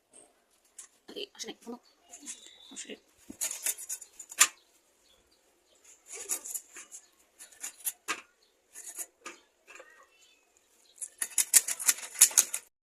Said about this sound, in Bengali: এই পুরো মাছটাকে আজকে কাটবো রাখবো